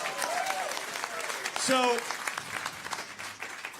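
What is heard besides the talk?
live audience applauding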